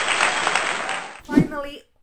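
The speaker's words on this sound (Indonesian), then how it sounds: "Tepuk tangan saudara-saudara" Brief burst of applause-like clapping noise, steady for about a second before cutting off abruptly, followed by a short voice sound, then silence.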